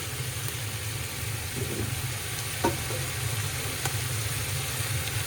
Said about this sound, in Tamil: அப்புறம் வந்து கேப்சிகம், முட்டைக்கோஸ் இதெல்லாம் போட்டுட்டு நல்லா சாட்டே பண்ணிக்கலாம் மக்களே.